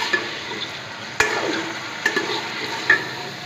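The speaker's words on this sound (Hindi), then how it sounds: "अब मैं चिकन को थोड़ा सा ब्राउन करूँगी" Chicken browns in a hot pan for fried rice with a steady, fairly quiet sizzle. A few sharp clicks from stirring rise above the frying.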